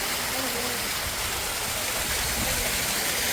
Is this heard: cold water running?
yes